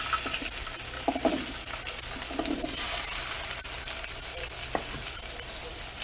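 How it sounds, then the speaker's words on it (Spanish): Vegetables, potato and carrot, sautéed in a pan, giving a continuous close sizzle and hiss with occasional soft stirring scrapes and light clinks, alone without talk. "Vamos a sofreír poquito la verdura."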